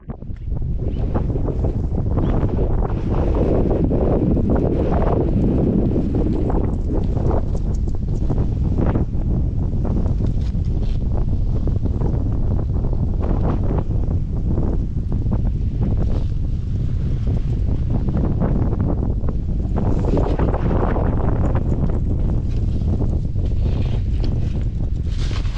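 Strong wind buffets the microphone outdoors during a trapping trip, a continuous loud roaring rush with gusty swells and no pause.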